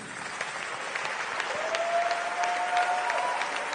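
A church congregation claps and cheers steadily in acclaim of Jesus, a dense, sustained wash of applause from a large crowd with a faint tone running underneath.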